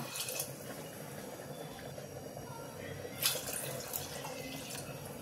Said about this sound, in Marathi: शिजण्यासाठी आपण पाणी घालूया।